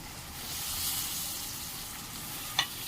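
Prawns dropped into hot masala in a pan for prawn curry, giving a soft steady sizzle throughout, with a short sharp clink of a utensil near the end.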